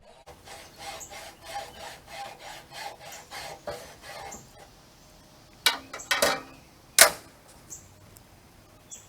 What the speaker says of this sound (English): you can use a hacksaw to cut off the part of the stake that inserts into the ground